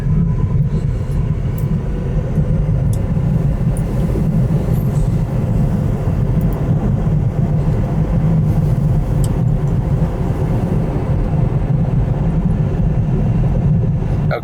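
An electric car fitted with a Webasto diesel heater drives a road in Lapland at -12 degrees, giving a steady, loud low rumble of tyres and road noise that continues unbroken throughout with no talking.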